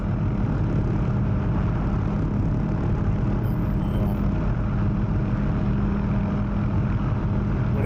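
An OH-6 light helicopter engine and rotor in the DCS flight simulator hovering over a runway, a loud, steady, dense drone that holds without a break and has no talking over it.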